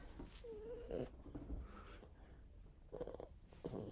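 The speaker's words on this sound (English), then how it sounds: "what a top-notch contribution from a top-notch dog" A dog vocalises close to the microphone with soft whines, low grumbles and snuffling sounds over a noisy indoor background, with faint muffled movement around it.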